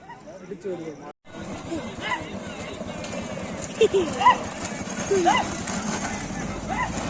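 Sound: racing bulls' hooves at a bullock cart race

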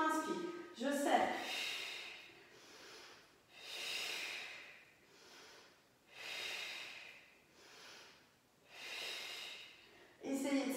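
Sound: exhaling breath during yoga exercise

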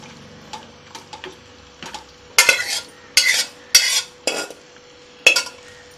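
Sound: cooked mutton being stirred into masala in a pan

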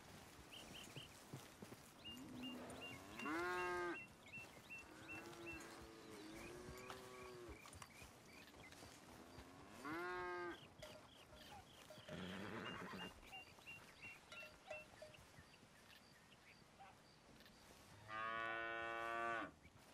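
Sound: cattle mooing in the video game Red Dead Redemption 2

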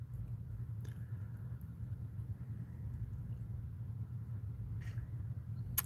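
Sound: truck rumbling outside

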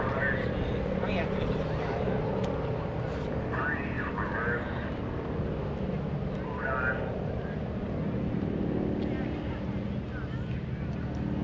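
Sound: aerobatic aircraft flying in formation at airshow

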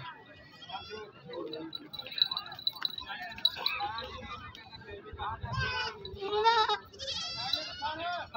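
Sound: goats bleating at a livestock market

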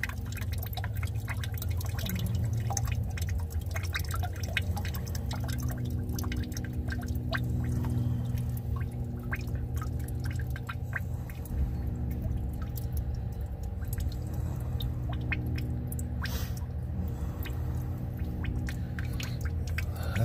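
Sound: water dripping from old truck

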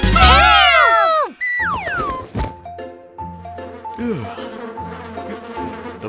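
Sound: cartoon mosquitoes buzzing in flight

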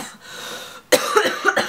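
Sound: cough

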